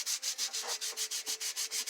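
A homemade lock pick being sanded by hand, heard close up as quick, even back-and-forth rasping strokes, about six per second, steady and alone.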